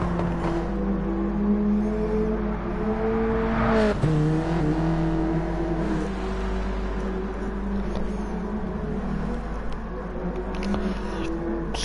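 Several racing cars on track in a Clio Cup racing video game, steady engine drone with rising and falling revs as gears change, continuous and fairly loud, with no voices over it.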